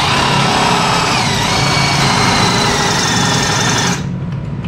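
A 1/4-inch ball end bit drills out metal while stiffening the frame of a Delta 14-inch band saw, giving a loud, continuous high-pitched motor whine that cuts off abruptly near the end.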